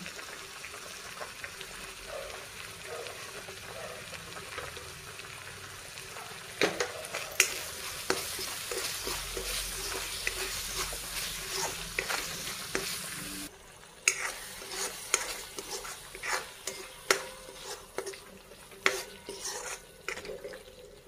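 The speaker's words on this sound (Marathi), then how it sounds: "हे बघा, आपला मसाला छान तळला आता।" Masala of homemade onion-garlic spice mix, turmeric, red chilli and salt frying in a pan for a drumstick (moringa pod) dish, with a steady sizzle throughout and a spoon scraping and clinking against the pan in irregular strokes, louder in the second half.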